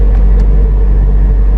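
A car on a drive at ordinary road speed, not on the highway, heard from inside as a steady, close, low engine and road rumble with no breaks.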